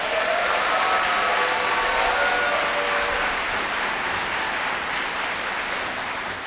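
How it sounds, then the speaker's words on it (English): Crowd applause for a 5th grade orchestra at an elementary school spring concert, loud continuous clapping with a few faint whistles early on, slowly easing toward the end. "One more round of applause for the 5th grade orchestra."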